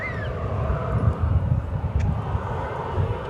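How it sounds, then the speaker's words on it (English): An American Airlines Airbus A321 arriving at DFW Airport from Denver rumbles past at close range, a steady, moderately loud jet roar with a low engine drone and no voices. "An Airbus A321."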